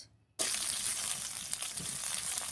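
Chilli and nigella seeds hit hot oil after a brief silence, setting off a sudden loud sizzle that stays dense and crackling.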